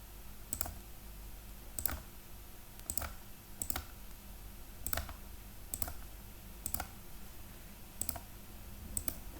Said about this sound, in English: Left click, left click again, left click again.